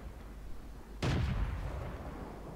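A single artillery shot in the World of Tanks video game, a sudden loud boom with a rumbling tail that follows a quiet stretch of background noise.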